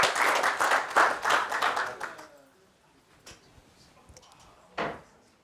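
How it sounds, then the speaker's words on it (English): Applause from an audience at an agricultural outlook presentation, clapping for presenter Tracy; a dense burst of claps for about two seconds that fades out, followed by scattered knocks and bumps in a quiet room. "I think we can give Tracy another round of applause."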